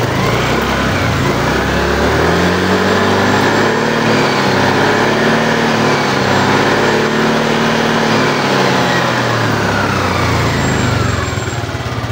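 Motorcycle engine idles smoothly and steadily, a close, loud, even rumble with a slight rise in revs near the middle before settling back, continuous throughout.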